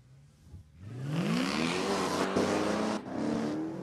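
A Dodge Challenger Hellcat and a Mercedes SLK230 race, a loud engine revving up hard and climbing in pitch as it accelerates, with a brief shift break and the roar continuing close by.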